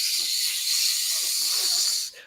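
A voice imitates a sizzling fajita tray with a long, loud, steady hiss that holds for about two seconds and then cuts off abruptly.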